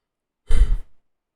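A single short, breathy yawn, close and soft, lasting about half a second with a fading tail, with no talk around it.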